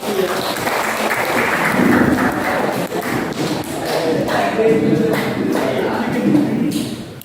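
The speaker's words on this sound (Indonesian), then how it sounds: "Silakan beri aplaus kepada kelompok." An audience applauds a presenting group in a classroom setting, with dense, steady clapping mixed with thumps and taps that holds throughout at a fairly strong level.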